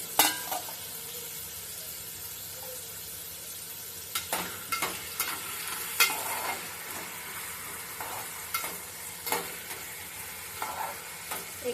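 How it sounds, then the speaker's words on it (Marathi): Kanda poha ingredients fry in hot oil in a pan, a steady hissing sizzle that runs throughout, joined later by irregular scraping and clattering stirs of a spoon against the pan. "त्याच्यात फ्राय करून घेणार आहे अंगावर तेल उडू शकतं"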